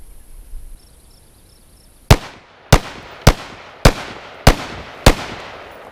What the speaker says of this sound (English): now we'll try our Colt AR-15A2 H-bar, which I have loaded with PMC X-Tac ammunition